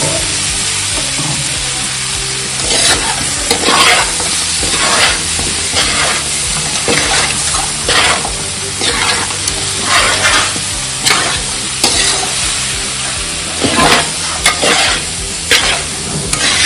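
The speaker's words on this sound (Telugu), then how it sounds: "ఇప్పుడు ఈ మొత్తాన్ని మంచిగా కలుపుకోవాలి" Green chicken pulao masala with green chillies being stirred in a pan, a loud close sizzle broken by repeated scraping strokes of the spoon at a steady pace, with no talking.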